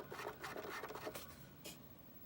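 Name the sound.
Sega CD drive rubbing as it turns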